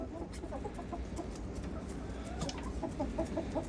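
A young rooster, his tail feathers still coming in with a green tint, gives a run of soft, short clucks. The clucks are fairly faint over a steady background hum, with a low voice murmuring underneath.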